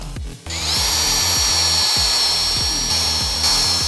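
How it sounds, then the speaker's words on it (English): A power drill fitted with a self-centering bit bores door hinge screw holes, giving a steady, close, high-pitched whine with a rhythmic mechanical pulsing underneath that runs without a break. "But it's what we call a self-centering drill bit."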